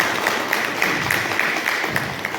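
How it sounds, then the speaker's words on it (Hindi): Loud, steady applause from a crowd at a local government gathering welcoming newly appointed administrators, with rhythmic clapping that keeps pulsing evenly throughout. "जोरदार ताली से स्वागत करेंगे।"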